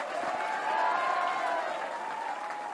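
Audience clapping at the Dadu Award 2013-14 ceremony, a steady, moderately distant wash of applause with a faint tonal hum running beneath it, no voices.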